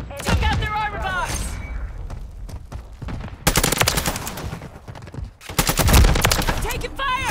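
Heavy gunfire in a Call of Duty MW3 match, with rapid bursts and booming shots in dense, loud volleys; game voices and callouts are heard between and over the firing.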